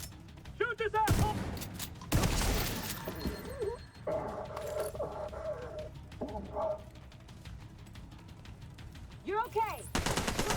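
Rapid gunfire from a video game shooter rattles out in loud bursts and single shots, mixed with electronic chirps and effects, while a voice talks intermittently.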